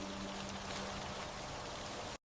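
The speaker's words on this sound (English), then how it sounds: "The rain had been falling for hours." Steady rain pours down in a dense, continuous hiss with scattered drop patter, close and fairly loud, with no voices and no pause until it cuts off abruptly at the end.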